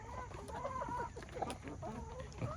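Backyard rooster Mike clucking nearby, a string of short murmured calls with one brief higher note, moderately quiet against a steady outdoor hiss.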